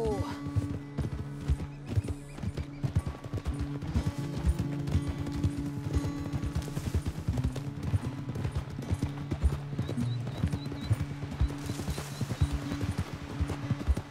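Horse hooves clip-clop in a steady, quick rhythm throughout a Red Dead Redemption 2 ride, with occasional snorts and a whinny, and voices talking over the hoofbeats.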